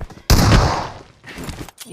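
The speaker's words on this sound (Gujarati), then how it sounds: "શોટગન છે બીવડાવે તો આપણને" A single loud blast of shotgun fire in Battlegrounds Mobile India (BGMI) bursts out, then decays with a rumbling tail, followed by quieter background game noise.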